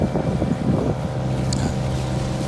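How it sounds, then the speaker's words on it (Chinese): A motorboat speeds along a large river in Kalimantan, Indonesia, its engine droning steadily under rushing wind noise on the microphone, with a brief higher-pitched sound midway. "船是感觉还蛮快的，对不对？"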